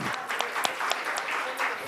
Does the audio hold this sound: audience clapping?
yes